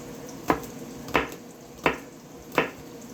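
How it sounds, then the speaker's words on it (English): A knife chops green onions on a cutting board in a home kitchen: four crisp, evenly spaced strokes at a slow steady pace, close by with faint room noise between them. "I like my green onion cut up nice. Not too fine, not too big."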